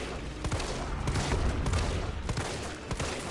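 Rapid gunfire in the video game Resident Evil 3, dense bursts of shots crackling one after another at close range, loud and continuous for several seconds.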